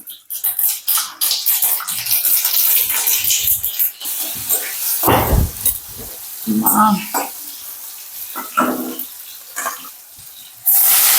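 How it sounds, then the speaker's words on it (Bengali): Spinach greens cooking in a pan after a mustard seed tempering, heard as bursts of close sizzling and spattering broken by gaps, clattering stirs and utensil knocks, with a loud splash-like surge midway. "আর হ্যাঁ, শাকে দিয়ে দিলাম অল্প সর্ষে ফোড়ন ঝোল শাক করবো"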